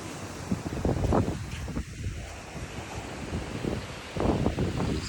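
Waves washing onto a stony beach beside a coastal garden, heard as rolling surges of surf mixed with gusty wind buffeting the microphone, rising again near the end.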